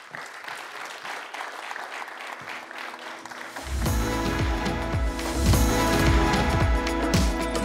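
Steady applause from an audience welcoming a speaker to a chemical-industry address, growing louder and fuller partway through as more clapping joins in, with no voices over it.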